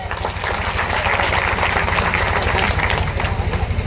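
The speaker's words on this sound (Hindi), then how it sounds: "तालियां बजाइए।" Applause from an audience at a tribal community rally in a village near Jabalpur, a dense steady wash of many hands clapping close and loud over a low rhythmic hum, lasting throughout.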